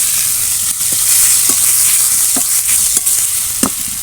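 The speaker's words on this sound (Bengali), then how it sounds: "আমি এখানে পেঁয়াজ কুচি দিয়ে দিলাম আমি বেশ অনেকটাই বেরেস্তা ভাজা করব" Chopped onions frying in plenty of hot oil for biryani, a steady loud sizzle with a few sharp clicks and stirring scrapes spread through it, no voices.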